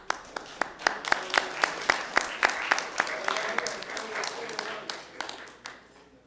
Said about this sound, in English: One more round of applause for Shanghai Pinghe.